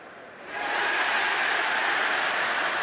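Stadium crowd noise from the cricket game Cricket 24, a broad steady roar of cheering and applause that swells in after half a second and holds loud and even, with no voices talking over it.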